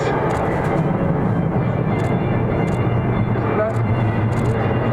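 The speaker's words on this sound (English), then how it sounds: "Reverse thrust, look at that for a short field." A Lockheed C-130 transport aircraft landing on a short field and applying reverse thrust: a loud, steady, broadband roar of turboprop engines that holds continuously throughout, with no talk.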